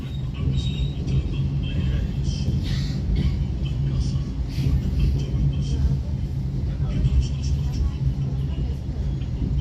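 Aboard the local economy-class Cepu train on the Surabaya–Cepu line, the carriage fills with a continuous low rumble of wheels and running gear, steady and close, with faint higher clatter drifting above it.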